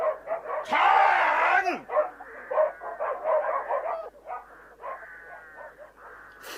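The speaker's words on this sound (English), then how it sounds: "He must have heard the barking." A dog barks, yelps and whimpers in an audiobook scene set at a farmhouse, with a loud burst early on followed by a string of shorter yips, while a voice briefly shouts.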